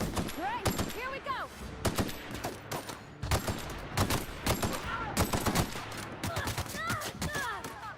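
Bursts of gunfire from The Outer Worlds video game rattle almost without pause, loud and close, mixed with frequent single shots, while someone talks over the shooting.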